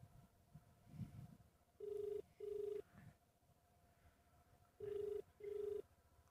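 Telephone ringback tone from an unanswered call, heard as two pairs of steady double rings separated by a pause, fairly clear over a quiet, faintly noisy background with no talking.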